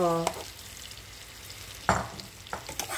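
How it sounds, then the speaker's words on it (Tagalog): Banana ube crepe frying lightly in a buttered pan gives a soft, steady sizzle, with a few short scraping stirs of the utensil on the pan. "Parang ipiprito lang natin siya ng kaunti."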